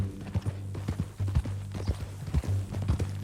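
Horse hooves clip-clop in a steady rhythmic gait from a Western video game set around ranches, close and clear over a low hum with a brief whinny-like tone and faint background.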